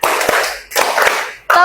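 A classroom of students claps together in a counted rhythm, bursts of loud, dense group clapping separated by short pauses, close and full.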